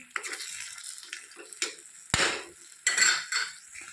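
A spoon stirs drumstick curry in a pan, making intermittent scraping clinks against the metal and a few louder knocks over a faint sizzle, close and clear with no talking.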